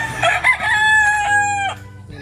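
A single rooster crows loudly and close by, one long drawn-out call that ends abruptly.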